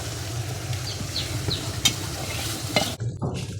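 Spices sizzle and crackle in hot oil for a raw jackfruit curry as they are stirred, a close, steady frying hiss with occasional scrapes and taps, quieting abruptly near the end; no one speaks.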